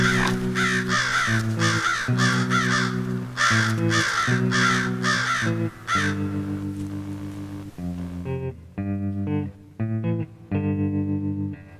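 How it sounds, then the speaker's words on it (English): Crows squabbling over a deer carcass caw loudly in rapid repeated bursts, harsh and close, some calls overlapping, with brief gaps near the end; no one speaks. "it looks like the crows and this fisher are in a little dispute over the ownership of this deer carcass"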